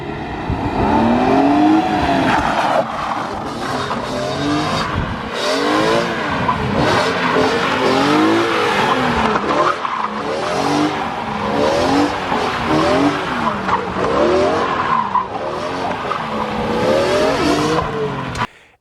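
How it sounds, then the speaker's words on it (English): A BMW E46 M3 with a full custom exhaust and a carbon CSL intake box accelerates hard through repeated gear pulls. Its loud, rasping engine note rises and falls in rhythmic sweeps, close by, with no talking. "one of the best sounding E46 M3 exhausts"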